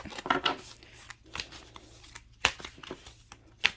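A deck of tarot cards is cut and handled by hand, giving soft papery rustles and a few sharp slaps and snaps, close and quiet, with no talking.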